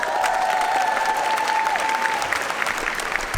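A large Comic-Con Hall H crowd applauds steadily and loudly, with dense sustained clapping and a faint tonal whine running beneath it.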